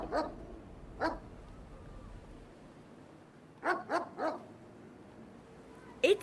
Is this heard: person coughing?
no